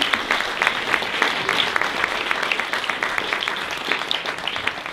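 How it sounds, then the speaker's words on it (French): An audience at a film screening applauds the film crew, a steady, dense round of many hands clapping with distinct sharp claps standing out, sustained evenly for several seconds. "si vous pouvez applaudir Pierre Tam, Anne, les 4. Vincent Eziel et Maëlé Huron"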